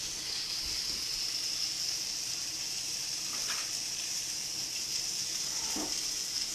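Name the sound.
vegetables sautéing in margarine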